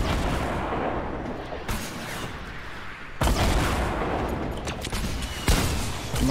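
Explosive rocket and gunfire blasts from RPG fire in a Fortnite-style match on Tilted, loud and dense with sharp bursts near 0, 1.7, 3.2 and 5.5 seconds over continuous battle noise.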